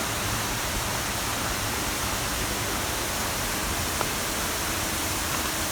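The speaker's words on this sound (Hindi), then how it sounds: "धनी वाटरफॉल।" Dhani Waterfall in Pakistan's Neelum Valley gives a steady, dense roar of falling water that fills the whole clip without a break or change in level.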